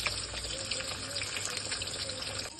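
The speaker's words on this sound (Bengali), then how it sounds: "পরিমাণ মতো জল দিয়ে আমি ডালগুলো সেদ্ধ করে নেব।" Water poured into mung lentils in a pressure cooker, a steady close faucet-like rushing stream that continues evenly for a couple of seconds.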